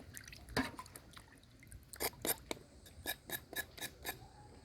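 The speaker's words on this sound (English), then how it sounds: "You have to scrape off some of the brown part off of the coconut so that you don't get your mixture too dark." A knife scrapes the brown skin off a coconut in a kitchen with soft, quiet scratches, then a quicker run of crisp, rhythmic strokes close by.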